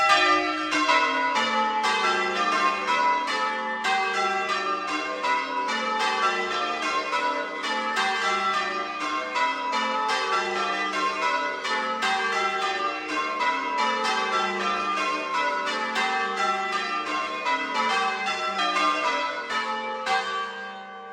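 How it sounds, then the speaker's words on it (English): Six church bells ring in a steady repeating descending sequence, treble first, in order one to six, clear resonant strikes following one another evenly for about twenty seconds. "When we begin ringing, the bells sound in the order 1, 2, 3, 4, 5, 6."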